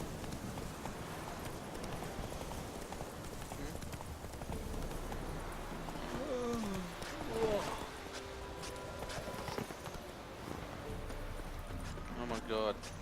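Horse hooves galloping in The Witcher 3, a steady fast clip-clop rhythm running throughout under game sound and a player talking.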